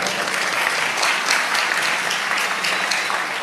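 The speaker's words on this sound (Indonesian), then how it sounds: "Tepuk tangan." Dense, steady applause from an audience at an Indonesian religious gathering (majelis), loud and continuous throughout with no break.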